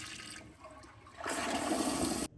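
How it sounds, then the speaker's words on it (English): A HOROW bidet toilet flushes with a powerful flush. A steady close rush of water swells louder halfway through and then cuts off abruptly. "Powerful flush, which anyone who cleans toilets can really appreciate."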